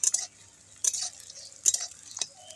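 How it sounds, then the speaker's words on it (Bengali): Onions frying in a pan are stirred in quiet bursts: a handful of spaced-out spatula scrapes and clinks against the pan over a faint, low background. "আমি পেঁয়াজটা কিন্তু নেড়ে চেড়ে ভালো করে ভেজে নিয়েছি"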